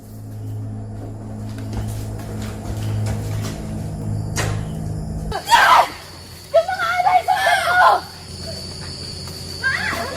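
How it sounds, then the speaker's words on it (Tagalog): An actor lets out a loud, realistic scream during a staged scene, a short harsh burst of voice cutting in after a low rumbling lead-in, followed by further shouting and noisy movement. "Realistic yung sigaw."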